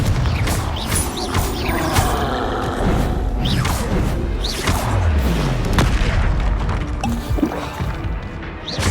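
Confringo fire spells fired in the Hogwarts Legacy video game, a dense run of booming explosive blasts and crashing impacts one after another, loud and continuous, mixed with other spell effects and combat noise.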